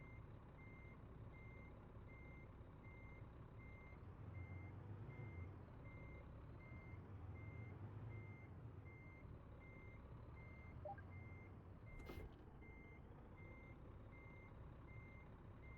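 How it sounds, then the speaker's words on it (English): Reversing beeps from a big rig in American Truck Simulator ring out as a steady, evenly paced repeating tone over a constant low engine rumble, with a brief sharp burst near the end. "Reverse slowly until you feel a connection."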